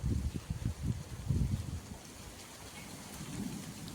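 Steady rain falls with a soft hiss, while low rumbling thunder rolls heavily at first and then fades into the background.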